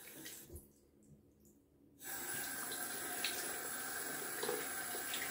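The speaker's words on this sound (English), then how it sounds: "Just rinsing off my tongue here. Getting it nice and clear." A bathroom tap starts running at full flow after a brief quieter stretch, a steady hiss of water into a sink while someone rinses their tongue, close and continuous.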